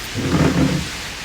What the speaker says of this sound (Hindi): बारिश थम नहीं रही